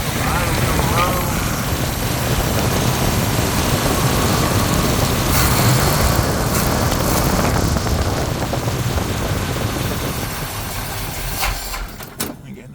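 A 1971 Plymouth Cuda engine runs roughly after a remote start, a loud, close, uneven rumble that fades toward the end, with someone talking over it.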